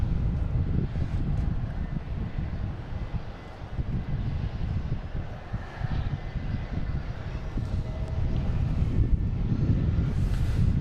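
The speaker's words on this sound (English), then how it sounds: "And we have an A330-900 coming in from Amsterdam" An Airbus A330-900 airliner arriving at Boston Logan airport gives a steady, broad engine roar that grows slightly louder toward the end, with wind buffeting over the microphone throughout.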